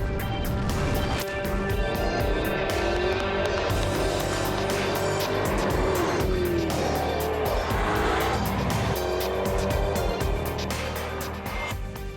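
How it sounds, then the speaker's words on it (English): A supercharged 5-litre V8 Jaguar XKR drives hard, its engine roaring steadily and loud throughout with tires squealing through corners, and no talking. "it's a supercharged 5-litre V8 that packs quite a punch"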